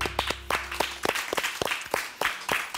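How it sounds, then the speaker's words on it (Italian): A small audience at an Italian sports-themed event with a live band claps in a loose, sparse patter of distinct nearby handclaps, uneven in rhythm and fairly quiet. "Questo applauso è per voi"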